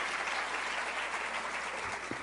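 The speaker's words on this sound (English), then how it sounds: "we should all just take a second and applaud the beautiful planners that put this together." Conference audience applauding the event planners, a steady wash of many clapping hands heard from within the hall, unbroken for a couple of seconds.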